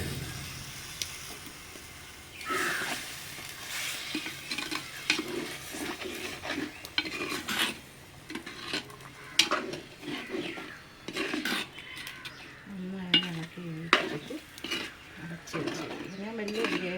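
A curry stirred in a pan, with metal spoon scrapes and clinks against the pan over a low sizzle, then hot water poured in, a brief gurgling splash late on, close and fairly quiet.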